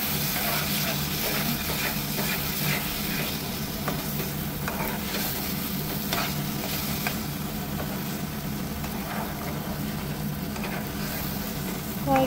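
Tomato fish curry simmers and fries in a pan with a continuous close sizzle, occasional stirring scrapes and bubbling pops, with no talking.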